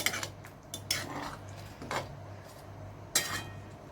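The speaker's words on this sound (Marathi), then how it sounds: "आणि मिक्स करून घेऊ." A spoon scrapes and clinks against a metal pan a few times in an irregular rhythm, close by, with no voices, stirring raw banana curry.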